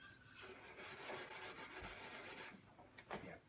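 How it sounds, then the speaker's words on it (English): Stainless steel scouring pad scrubbing the lid of an outdoor barbecue, a close, rapid back-and-forth rasping with short rhythmic strokes and brief pauses. "I need something stronger to have a scrub on this part of the lid."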